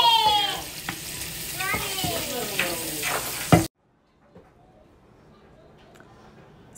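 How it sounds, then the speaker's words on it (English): Bacon frying in a pan gives a crackling sizzle with a stirring scrape, heard for a few seconds before cutting abruptly to near silence. "Bacon sizzling."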